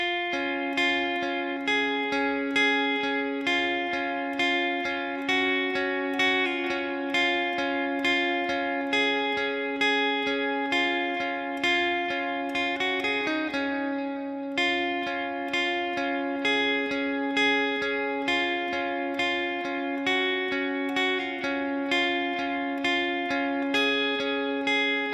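An overdriven electric guitar plays the verse of a song, sustained ringing chords struck in a steady, even rhythm, played alone and clearly throughout.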